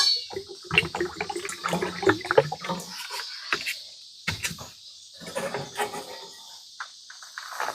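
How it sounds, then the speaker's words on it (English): Water trickles and splashes into a dog's bowl at a quiet lakeside campsite, a few short irregular pours close by, with insects faintly chirping in the background. "Zinger, let's get you some water."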